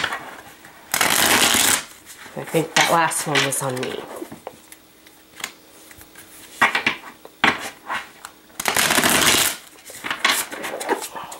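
Tarot cards riffle-shuffled in several quick bursts of crisp fluttering, close up, with a person speaking briefly between shuffles.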